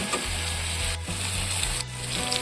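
Water added to hot fried masala for a Bengali egg curry sizzles in a dense, loud, steady hiss close by, with a low hum running underneath.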